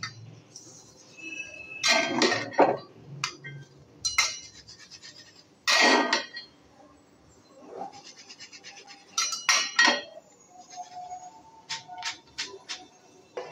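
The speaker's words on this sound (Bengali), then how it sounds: "এইভাবে একটা ছাঁকনির মধ্যে তুলে দিচ্ছি" Fried peanuts are lifted with a metal utensil into a metal strainer, with several bursts of clinking and scraping at irregular intervals and quieter gaps between them, close by and with no talking.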